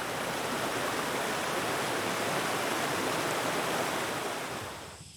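Steady broadband rush of the Namhan River flowing past anglers in Yeongwol, Gangwon, continuous and fairly loud, close and even throughout before easing off in the last moment.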